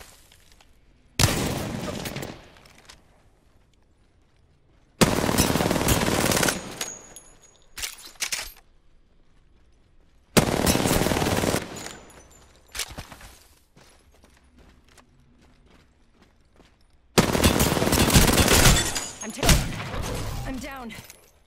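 Bursts of gunfire in the video game Apex Legends during a 1v1 match, arriving as four separate loud volleys of rapid shots with quiet gaps between them, and some talking at a lower level.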